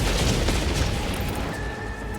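Bombers in Helldivers 2 drop a loud barrage of booming explosions, a dense rumbling roll of blasts that fades slightly toward the end.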